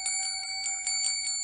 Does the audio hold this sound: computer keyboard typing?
no